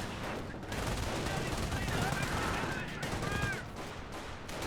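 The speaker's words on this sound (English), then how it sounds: "Bren squad firing away" A Bren gun squad firing in Company of Heroes, the World War II strategy game: sustained, fairly loud automatic gunfire rattling steadily for several seconds amid battle noise, with faint tonal effects layered in and a voice commenting over it.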